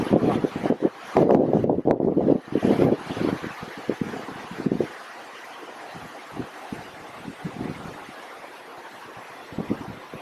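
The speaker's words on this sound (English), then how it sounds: "Strong wind coming from upstream" Strong wind gusting upstream along a New Zealand river during fly fishing, loud buffeting rumble against the microphone for the first five seconds, then easing to quieter intermittent gusts and bumps.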